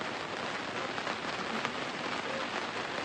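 Steady rain falls outdoors around a village cooking area during a rainy spell, a continuous even hiss of drops on surfaces with no break across the few seconds.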